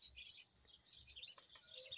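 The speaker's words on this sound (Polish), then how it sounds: "Wróble skaczą, szaleją po orzechu, po czereśni, karmią młode." Sparrows chirp and tweet in a garden among walnut and cherry trees, with quick, faint overlapping calls repeating throughout at a moderate distance, no voices present.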